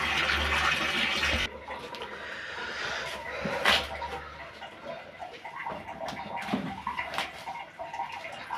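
Water runs from a newly fitted Atlas 25-liter electric geyser, a strong gush at first that drops to a softer, uneven trickle and splash, with small knocks and clatters mixed in.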